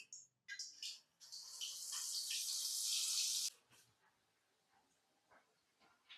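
Marinated chicken for chicken 65 is dropped into hot oil in a kadai for deep frying. A sharp hissing sizzle swells for about two seconds, then settles into faint scattered crackles.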